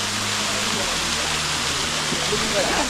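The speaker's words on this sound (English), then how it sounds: "This is probably my favorite waterfall." Waterfall at Hanging Rock State Park, a steady broadband rushing roar filling the whole stretch, with a faint low hum and a voice speaking over it.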